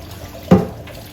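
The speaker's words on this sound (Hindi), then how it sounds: "अब इस पे हम थोड़ा ठंडा पानी डाल दें, जिसमें ये पकना रुक जाए।" Cold water splashes over strained, cooked rice for Hyderabadi biryani in a single short, sharp pour that rises abruptly out of a quiet kitchen background and fades within a fraction of a second.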